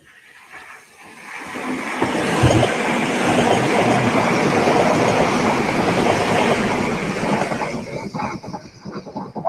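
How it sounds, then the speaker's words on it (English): An Avanti West Coast train passes close by, its roar building quickly and holding steady with rumbling wheels and rhythmic rail clatter before it begins to fade, with no voices over it. "so that's training train, is that, Tommy?"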